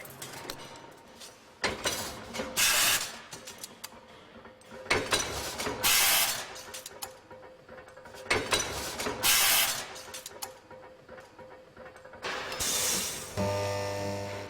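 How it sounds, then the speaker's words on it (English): Factory machines and presses cut, stamp, bend and shape steel parts for Brooks bicycle saddle frames, producing repeated clanking hits and hissing bursts in an irregular rhythm, close and busy. "A dozen other machines and presses cut, stamp, bend and shape all the other parts of the saddle frames"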